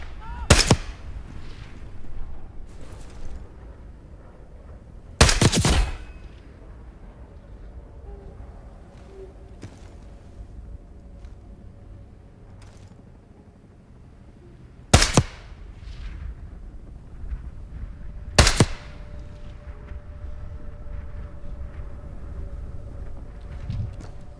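Gunfire in Call of Duty Black Ops 6: four sharp, loud shots spaced several seconds apart, standing out over a low, steady ambient rumble with no talk.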